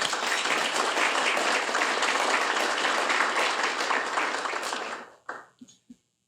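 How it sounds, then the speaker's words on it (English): A crowd applauds the winners at the 2023 SCORE Small Business Achievement Awards ceremony. Thick, even clapping lasts about five seconds, then fades quickly into near silence with a few scattered final claps. "Let's give one more round of applause for the winners."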